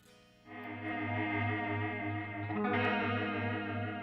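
A Walrus Audio Slotva effects pedal with its master EQ at the centre position shapes a sustained, reverberant chorus-like tone, swelling in after half a second and holding with slow pulsing shimmer and no talk.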